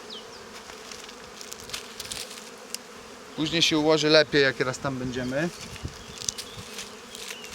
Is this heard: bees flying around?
yes